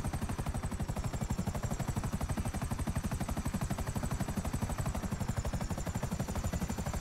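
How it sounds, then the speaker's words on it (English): A helicopter in a video game keeps up a constant, rapid rotor chop, loud and even throughout, with no talking. "Come on, helicopter, be faster."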